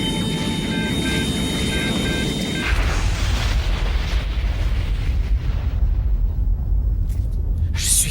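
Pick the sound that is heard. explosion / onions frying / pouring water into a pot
explosion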